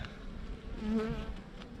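Honeybees hum in a soft, wavering buzz, fairly quiet and close, swelling slightly midway through, during a honey harvest.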